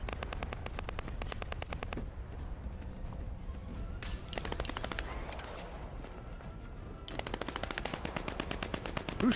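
Machine gun fire in The First Descendant video game comes in three rapid automatic bursts separated by quieter gaps with scattered lighter noises.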